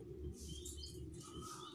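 Pigeons stir inside a cage, with soft wing flaps and faint chirps from nearby birds over a steady low hum, close and fairly quiet.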